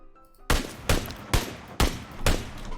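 Gunfire in the video game PUBG Mobile: five loud, sharp shots at a steady pace about half a second apart, each trailing into a brief echo, with no talking.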